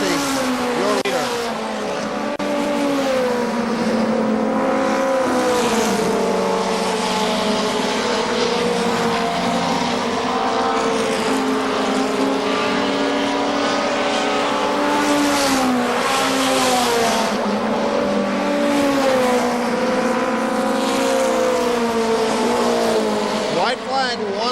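Pickup trucks race around the KilKare Speedway oval, their engines roaring loud and continuous with rising and falling pitch as they sweep through turns, with a public-address announcer talking over the noise.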